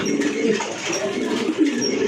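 A pigeon coos softly and steadily over low background noise for a couple of seconds.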